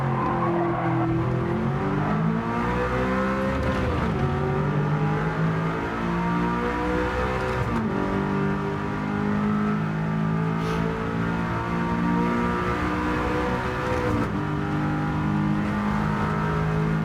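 A race car drifts in Gran Turismo 7, engine revving steadily up and down through gear changes with squealing tires sliding through corners, loud and continuous throughout.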